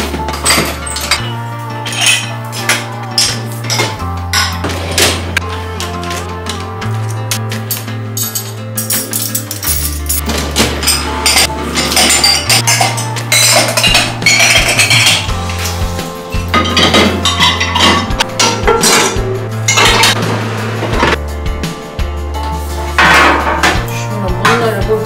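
Dishes, pots and cutlery clink and clatter as a home kitchen dishwasher is emptied during a deep kitchen cleaning, with steady close clinks and knocks over continuous background music.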